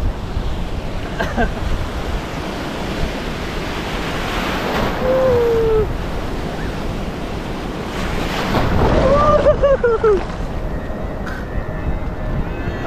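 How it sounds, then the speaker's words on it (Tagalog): Strong ocean waves and surf at a beach, a loud continuous roar with surges, buffeted by wind against the microphone; brief voices rise faintly through the din. "nalakas ang alon, no?"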